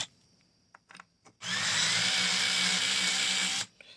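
A Hoto 3.6V cordless screwdriver whirs steadily for about two seconds while backing out a screw, preceded by a few light clicks and handling taps, then stops abruptly.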